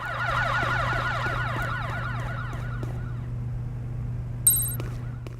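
Police car sirens wail in repeated rising-falling sweeps over a steady low hum in the video game Headhunter, then fade, with a brief sharp electronic beep near the end and no one talking.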